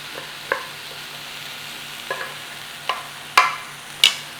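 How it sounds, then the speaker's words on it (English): Wooden spoon stirring rinsed lentils through garlic, onion and carrot in a soup pot, a handful of separate scraping clacks that grow louder toward the end over a faint low sizzle. "get those rinsed lentils in there. Stir them through."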